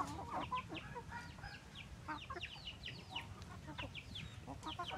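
Several roosters cluck and chatter in a busy farmyard during mating behaviour, short calls overlapping one another over a steady low background rumble, moderately close throughout.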